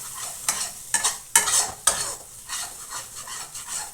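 Spice masala sautéing for chicken kofta curry, a soft continuous sizzle broken by several sharp spatula scrapes and clinks against the pan, close by and without speech.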